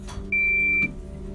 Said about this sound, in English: Oh, it chimes all the time.